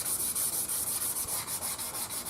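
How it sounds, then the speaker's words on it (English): Steady rhythmic rubbing of 400 grit sandpaper on a wooden bass body, back-and-forth strokes repeating quickly and evenly, close and clear with no talk. "I've just began to start sanding this 400 grit"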